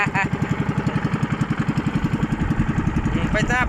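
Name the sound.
boat engine running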